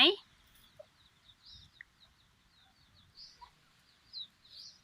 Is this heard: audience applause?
no